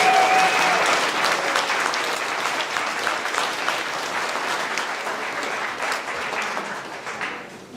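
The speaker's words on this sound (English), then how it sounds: "Let's please give them a round of applause." Sustained audience applause at a benefit concert for Ukraine, honoring the organizing committee; dense, steady clapping from a sizable crowd runs the full length, easing slightly near the end.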